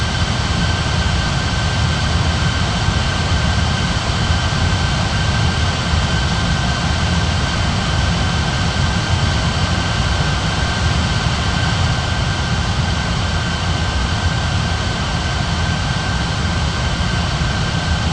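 Steady, loud roar of Southwest airliner jet engines taxiing in an Air Traffic Control video game, a constant unbroken drone with a thin high whine running through it.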